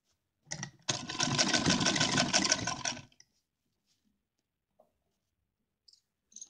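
A sewing machine hems a doll's lehenga dress in a short, steady burst of rapid stitching lasting about two seconds, close and clear, then stops into near silence with a few faint clicks.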